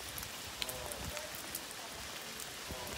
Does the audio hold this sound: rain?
yes